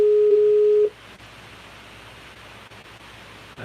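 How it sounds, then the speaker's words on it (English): Outgoing WhatsApp call tone: a steady electronic ringback tone, loud and alone for nearly a second, then cut off, leaving faint line hiss and quiet room noise. "I think I'm calling you now, Philip, but with WhatsApp, I never know."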